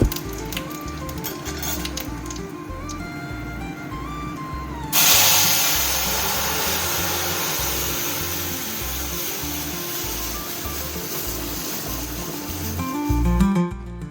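Bay leaves and dried chillies hit hot oil for tempering. A sudden loud sizzle bursts in partway through and settles into a steady, hissing fry, swelling briefly again near the end, with no voices.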